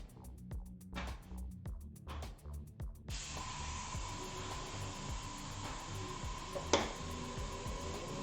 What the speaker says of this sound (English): I'm just going to spray over this